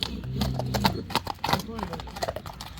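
A horse moving in an ambling gait gives a steady run of close, distinct hoof clip-clops over ground, with a voice talking along with it.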